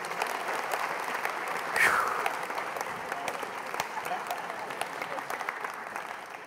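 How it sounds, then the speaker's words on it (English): An audience applauds a volunteer at a mathemagics talk, with steady, moderately loud clapping throughout, a brief swell near the middle and a few voices mixed in. "Let's all give Madeline a nice round of applause"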